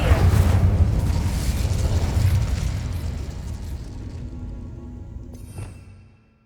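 An Incendio fire spell cast in Hogwarts Legacy erupts as a loud, close, roaring burst of flame that slowly fades over several seconds, ending with a small crackle.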